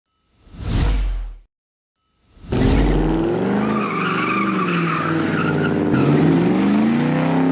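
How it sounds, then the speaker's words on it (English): Beater Mustang GT with bald tires doing straight burnouts. Two loud whooshing tire squeals pass close by, the second settling into a long, steady roar of spinning rubber and engine. "even with the traction lock off, it doesn't do much besides just straight burnouts"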